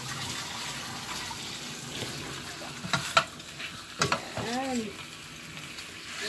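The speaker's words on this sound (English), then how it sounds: "Stir frying like that." Vegetables sizzle steadily in a stir-fry pan while a utensil stirs and scrapes, with a few clinks and a brief splash of liquid.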